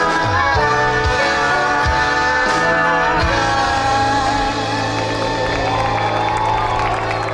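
An awards-show audience cheers, whoops and applauds a band at a trop rock music association ceremony, a loud continuous crowd roar with music still ringing beneath it.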